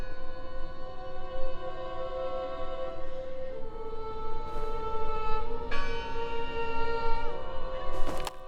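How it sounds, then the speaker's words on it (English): Bell ringing in the horror adventure game Draugen, with sustained metallic tones that linger through the whole stretch and fresh strikes near the end, set over a low ambient drone, moderately loud and without speech. "It must be her ringing the bell."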